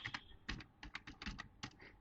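Typing on a computer keyboard while writing C code, a steady run of close, crisp key clicks in uneven bursts with brief pauses, heard alone without talk.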